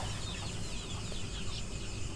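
Chickens, including white chickens, cluck softly and repeatedly over a constant noisy background on a mixed poultry farm, with no voices.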